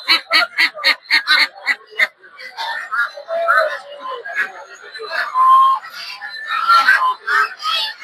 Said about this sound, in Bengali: দেখতে পাচ্ছেন বিভিন্ন ধরনের দেশি হাঁস